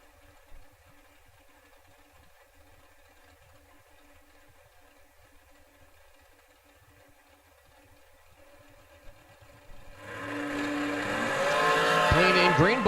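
Drag race cars launch at Fall King of the Creek, a roaring pair of engines surging in over the last few seconds after a quiet stretch of low track ambience, growing loud and close with rising revs.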